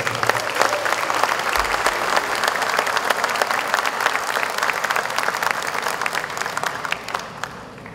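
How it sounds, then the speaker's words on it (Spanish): A crowd at the official opening of an agricultural show gives sustained, warm applause for the women, with steady, dense clapping throughout. "Yo quiero un aplauso caluroso para nuestra mujer."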